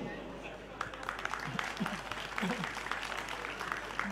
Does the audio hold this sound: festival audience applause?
yes